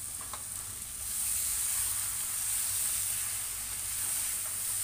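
Minced mutton kheema frying in a home kitchen pan, a loud, steady hissing sizzle that swells after the first second and holds evenly, close by with no one talking.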